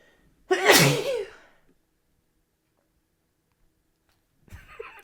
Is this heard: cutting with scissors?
no